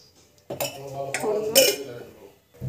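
A metal kadai pan set down on a stove with a clanking thud and short metallic rattles, close and fairly loud, followed by a second clatter.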